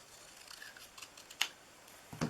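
Scissors snip through a piece of cardboard bakery box, a faint rustle followed by a sharp cut and a louder crunch near the end, close and quiet with no talking.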